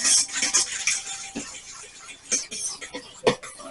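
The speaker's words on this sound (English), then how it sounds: "we're going to mix that all up with the fork" Fork scraping and clinking against a bowl while potato salad with relish and eggs is stirred together, a few close, light taps and scrapes spread over several seconds, with faint background voice.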